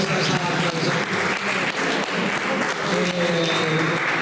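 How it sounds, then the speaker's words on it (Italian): Steady, dense clapping from a crowd applauding a dancer fills the whole stretch, loud and continuous, with a few voices mixed in. "E un applauso alla bravissima ballerina"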